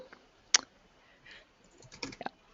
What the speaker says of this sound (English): I can hear you typing even, Tiffany.